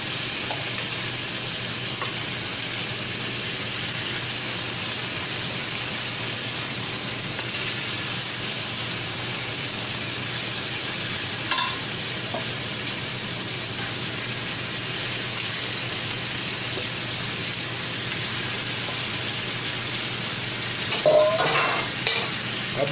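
Jerk-seasoned short lamb chops sear in a pan, giving a steady close sizzle that runs the whole time with no talk, plus a few faint clicks and scrapes near the end.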